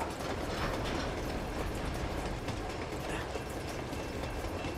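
A moving train in the video game Uncharted 2 rumbles steadily, a dense continuous roar with faint rhythmic clatter of the wagons.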